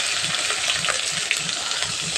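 Chopped tomato and green chillies sizzle in hot oil over cumin tempering, a steady, close hiss with no talking.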